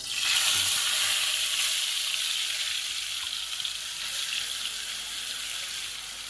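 Ground onion paste hits hot oil with a loud, bright sizzle that swells at first and then settles into a steady, dense hiss, close and continuous, while mutton kola urundai are being prepared.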